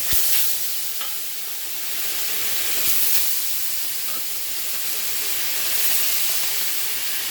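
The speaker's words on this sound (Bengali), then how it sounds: "এখন মাছগুলো আমি ভেজে নেব এক এক করে" Bhola fish frying in a pan of hot oil gives a continuous close sizzling hiss with a few brief spits and crackles, and no voices.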